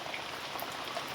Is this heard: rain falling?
yes